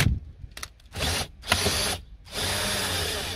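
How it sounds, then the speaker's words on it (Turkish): Torx screws are backed out of a car dashboard instrument panel with a power driver: three or four short whirring bursts separated by brief pauses, with small ratcheting clicks, close and with no voices. "Şimdi önce söktüğümüz yerdeki deliklerdeki vidaları yerinden çıkarmam lazım."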